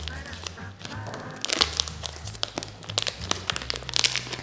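A block of mozzarella cheese being cut into small cubes with crinkling, crunchy crackles of wrapper and knife, irregular bursts close up, with no clear speech.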